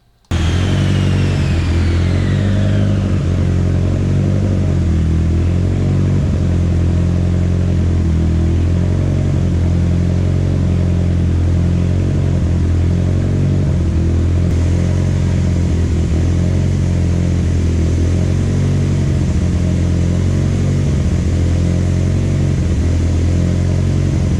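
A Mitsubishi Evo turbo engine with Darton sleeves and an Xona turbo runs loud and close under boost, sustained and droning, with rapid pops and crackles from running rich.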